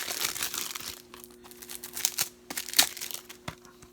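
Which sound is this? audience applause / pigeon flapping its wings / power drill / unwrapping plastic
unwrapping plastic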